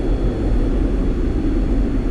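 A propeller airplane engine in a flight simulator on approach to Nassau, a loud, steady droning hum held evenly and close throughout.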